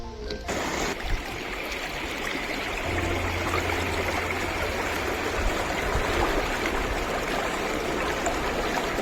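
A small river that feeds the Narmada flows steadily past a roadside spot with little shops, a continuous close rushing and trickling wash that stays even throughout, with a low rumble joining partway.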